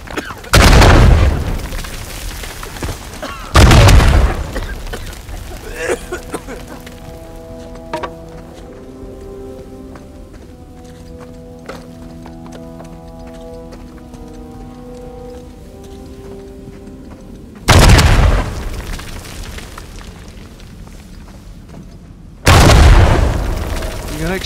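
Several loud, heavy explosions in Uncharted 4, booming blasts at the start and again near the end, with quieter clattering debris and rumble in between.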